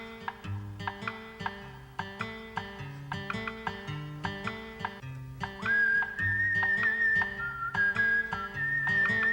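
A cartoon cowboy whistles a little tune, a clear sustained whistled melody entering partway through over bouncy plucked background music.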